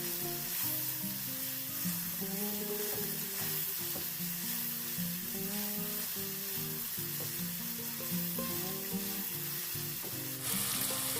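Vegetables with black pepper, salt and chopped green chillies sizzle and are stirred in a pan for vegetable pasta, a steady frying hiss under faint background music with a louder burst near the end.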